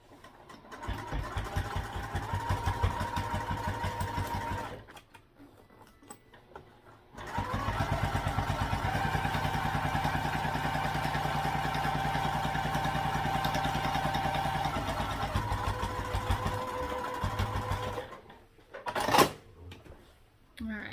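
A sewing machine bastes a pocket onto a crossbody bag in two long runs of rapid, even stitching with a pause between, close and steady, followed by a short clatter at the end.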